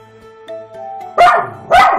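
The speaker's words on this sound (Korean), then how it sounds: "반응을 하지 않고 다가서자 놀랍게도 짖는 걸 멈춘" A dog gives two sharp, loud barks close by, about half a second apart, after quieter background sounds.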